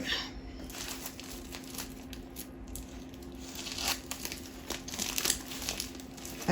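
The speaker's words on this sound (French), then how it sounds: "je commence par déballer ça à l'instant même" Packaging for a diamond painting kit crinkles and rustles in bursts while being unboxed, close and fairly quiet over a steady low hum.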